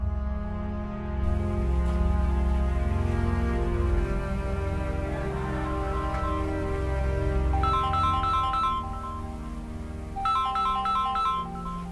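A mobile phone ringtone plays continuously as a loud melodic tune with repeating bright chimes, heard alone without talk.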